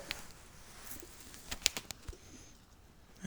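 Pigeons overhead: soft, faint cooing with a few light clicks and flutters against a quiet outdoor background.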